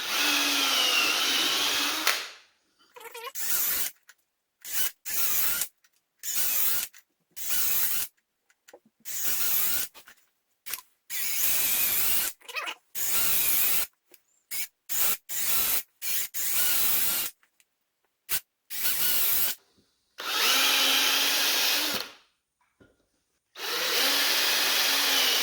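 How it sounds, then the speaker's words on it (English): A power drill bores stud holes into the lugs of a tire, running in loud close bursts of high whirring, some long and many short, separated by brief silences, with no talking. "Alright, got all the lugs drilled for the back."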